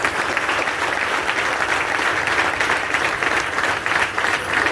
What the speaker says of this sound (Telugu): ఒకసారి మీరు చప్పట్లు కొట్టండి